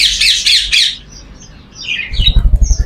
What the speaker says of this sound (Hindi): और इसी के साथ मौजूद व्हाइट रिंगनेक, व्हाइट रिंगनेक का भी मेल मौजूद है